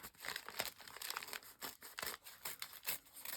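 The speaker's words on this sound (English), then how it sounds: "so let's just rip that down" Paper torn and ripped down by hand, a close run of quick crinkling, tearing rasps in uneven bursts, fairly quiet and with no talking.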